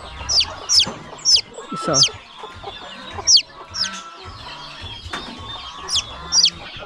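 Hens clucking close by on a farm, a series of sharp, repeated clucks in uneven bursts over low handling noise and a brief spoken word.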